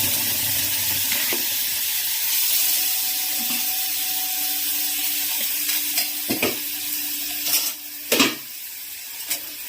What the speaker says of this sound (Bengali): ঘিয়ের ওপরে একটু কাজুগুলো আর একটু কিশমিশটা একটু ভেজে নেবো অল্প করে